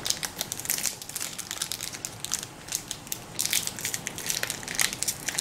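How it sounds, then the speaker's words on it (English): Foil packaging of Magic the Gathering Assassin's Creed collector booster packs is crushed and torn open. Close, continuous crinkling and crackling rises and falls as the hands struggle with the wrapper. "Trying to rip these packages are almost impossible here."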